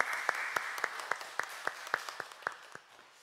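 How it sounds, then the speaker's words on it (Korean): Church congregation at a Sunday worship service clapping together in a slow, even rhythm, each clap a sharp distinct beat over a soft diffuse wash, fading toward the end. "하나님께 영광의 박수 올려드리시겠습니다."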